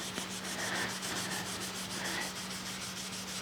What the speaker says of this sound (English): I'll just put a little dab on there like that. And then I'm just going to rub it.